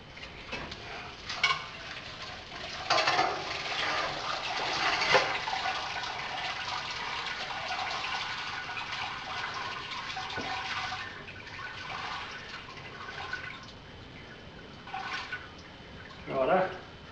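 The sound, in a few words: draining wort from a grain bag while brewing stout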